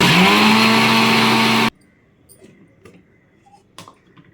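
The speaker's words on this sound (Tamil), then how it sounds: "அதை வந்து ஒரு ஜாரில் போட்டு அரைச்சி எடுத்துக்கலாம் இதை வந்து மிக்சியில் நம்ம அரைச்சி எடுத்துக்கலாம்" An electric mixer grinder whirs loudly and steadily for under two seconds as it blends green chillies and garlic into a paste, then cuts off abruptly, leaving faint clinks and handling noises.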